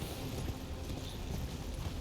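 Horse galloping in the video game Elden Ring, a steady rapid clip-clop of hooves carried under dense game ambience and music, with no voices.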